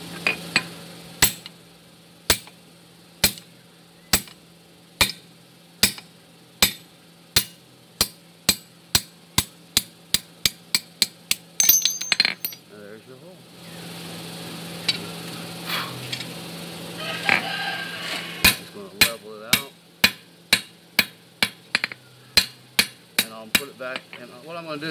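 A hammer strikes a round drift set into hot steel on an anvil, loud ringing blows at a steady beat that quicken into a rapid run, then pause amid workshop shuffling before the measured strikes resume.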